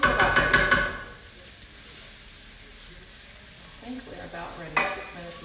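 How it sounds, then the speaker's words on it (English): Cauliflower fried rice sizzles in a pan while a utensil stirs it, with loud scraping and clatter at the start, a steady frying hiss throughout, and a few more stirring knocks near the end. "We're going to stir this around, stir it around, stir it around, stir it around."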